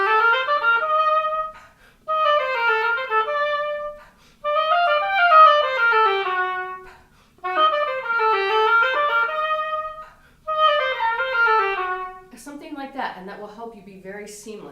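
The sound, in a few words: oboe playing sixteenth-note run, Handel Sonata No. 1 Allegro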